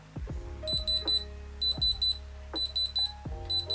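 Handheld diamond tester pressed with its metal tip against a diamond on a moissanite wedding set, giving repeated bright electronic beeps in short bursts, loud and close, with no talking.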